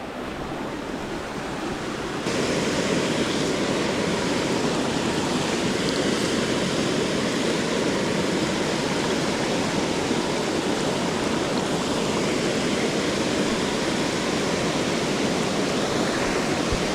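Steady broadband rush of a waterfall on Wissahickon Creek, Philadelphia, quieter for the first two seconds then loud and constant, close by with no voices.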